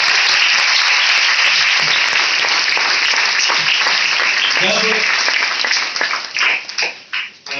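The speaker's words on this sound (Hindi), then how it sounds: "एक जोरदार ताली आप लोगों के लिए होना चाहिए।" A crowd claps steadily and loudly, the applause thinning into scattered individual claps toward the end.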